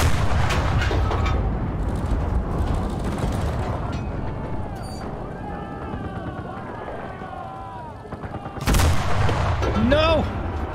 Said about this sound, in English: we do have HE shells, so let's just use them